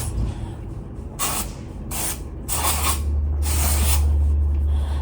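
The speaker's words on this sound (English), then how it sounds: "Got some people cutting down trees and stuff, so you might hear quite a bit of sawing noises" Trees being cut down in a backyard, heard as repeated rasping sawing strokes in bursts roughly a second apart, fairly close, over a constant low rumble.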